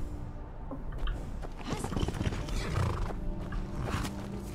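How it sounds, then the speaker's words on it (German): A horse in the video game Skyrim whinnies and neighs while hooves clip-clop over the ground, close and clear, with faint creaking in the background. "Niemand greift mein Pferd an."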